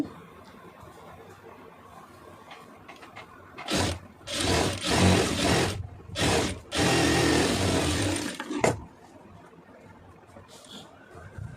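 A sewing machine stitches folded fabric scraps for a door mat, running in several rapid bursts of a few seconds each with short pauses between, close and fairly loud after a quiet start.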